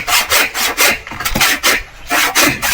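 A hand saw, called lagari in Tagalog, cutting through wood at a farm house build, with rhythmic back-and-forth rasping strokes, close and loud, roughly two strokes per second, with no talking.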